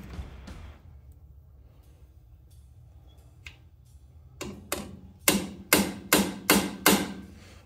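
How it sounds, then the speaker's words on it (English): Metal-on-metal hammer strikes on a center punch into metal, first sparse, then a run of five or six sharp, loud, evenly spaced blows, close up. "get a center punch in there"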